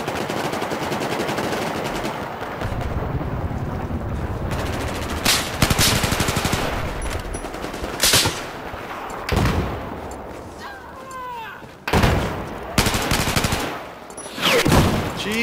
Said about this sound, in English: Обнаружен вражеский пулеметчик.